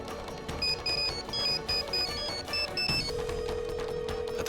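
A mobile phone rings in a classroom, its tone repeating in short even bursts for about three seconds before a single sustained tone takes over, moderately loud against quiet room sound.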